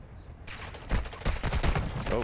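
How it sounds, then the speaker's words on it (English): Rapid bursts of gunfire crackle after a brief quiet start in the video game DMZ, rattling shots overlapping in dense volleys, fairly close and loud. "was that the scavenger they're shooting at us?"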